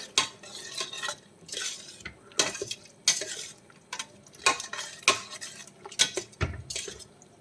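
A utensil repeatedly scrapes and clinks against a pan as cooked mutton is stirred into biryani masala, in irregular bursts of knocking over a faint sizzle.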